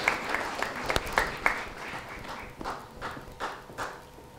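Scattered audience applause at a sports award ceremony during the 2018 finale in Uniejów, a thin, uneven patter of claps that peaks early and then trails off into looser, quieter clapping.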